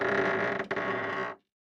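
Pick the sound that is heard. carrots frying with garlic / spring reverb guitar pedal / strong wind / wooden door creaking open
wooden door creaking open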